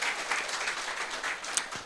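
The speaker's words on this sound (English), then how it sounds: "give a round of applause to the team who's made this session possible" Brief, fairly quiet audience clapping at an investment education talk, a short scattered patter of applause with no speech over it.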